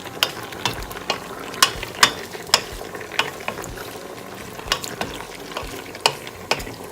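Chopped garlic stirred in a frying pan for a pasta and vegetable dinner, a steady run of sharp scraping taps from the utensil against the pan over a low background sizzle, close up with no talking.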